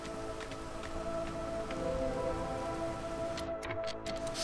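Rainstorm in the roguelike city-builder game Against the Storm, a faint, steady hiss of rain with scattered drops and a low background hum, continuous and with no talk.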